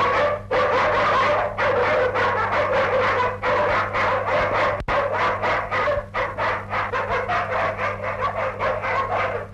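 Several dogs bark in a dense, continuous volley for the whole stretch, loud and close, with yips and overlapping bow-wows over a steady low hum in the background of an old 1943 film soundtrack.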